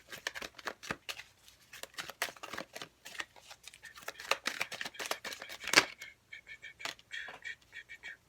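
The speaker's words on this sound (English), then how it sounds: "Let's get this nice and shuffled." Tarot cards being shuffled by hand, a series of quiet, crisp riffling and slapping bursts in an uneven rhythm, close and soft with no talk.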